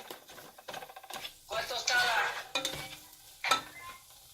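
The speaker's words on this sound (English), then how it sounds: "Okay, the onion, and then we're gonna wait until they fry. I'm just gonna stir them." Onion frying in a pan and being stirred, a soft sizzle swelling in bursts with scraping and tapping strokes, close but fairly quiet, with faint talking in the background.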